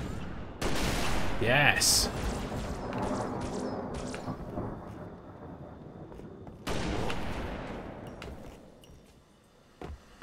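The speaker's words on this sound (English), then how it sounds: "That's a gun I'm shooting at, right?" Gunfire in Halo Reach, with bursts of rapid shots early on and another loud volley later, while a player speaks and exclaims over the action.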